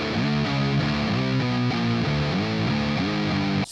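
Heavy distorted electric guitar riff, fast chugging chord pattern repeating steadily and densely for a few seconds before cutting off abruptly.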